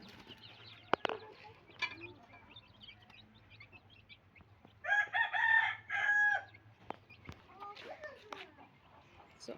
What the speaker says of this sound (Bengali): মুরগ তো আছে